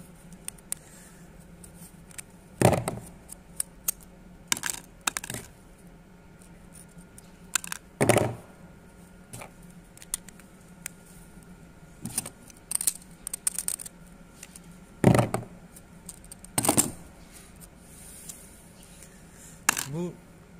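Plastic printer parts being taken apart by hand: scattered sharp clicks, snaps and rattles at irregular intervals, close and fairly quiet, with low background hum between them.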